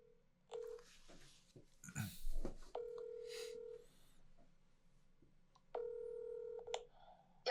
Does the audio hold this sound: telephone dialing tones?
yes